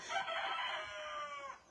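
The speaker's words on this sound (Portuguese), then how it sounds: "o cantar do galo" A rooster crows once in a single long, drawn-out call at moderate distance, clear and unaccompanied by any voices.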